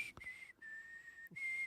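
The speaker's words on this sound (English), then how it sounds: "I'm so glad you can't whistle well" Someone whistles a short, wavering tune nearby, in steady sustained notes broken by brief gaps and faint breathy puffs, quiet and without any talk.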